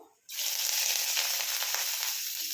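Chopped garlic lands in hot mustard oil and sets off a loud, steady, hissing sizzle straight away that holds for a couple of seconds.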